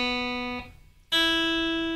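An acoustic guitar's open strings ring out as single notes, a clear sustained tone that breaks off briefly before a brighter plucked note picks up, close and fairly quiet.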